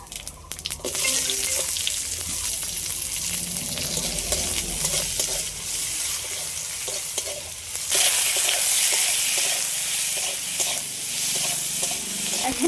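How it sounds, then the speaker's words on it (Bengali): Cumin, black pepper, onion, green chilli, tomato, ginger and garlic fry together in oil left over from frying fish. The loud, bright hissing sizzle runs continuously and surges stronger partway through, with occasional stirring clatter. "এই মাছ ভাজার তেলের মধ্যে কিছু মশলা ভেজে নেব।"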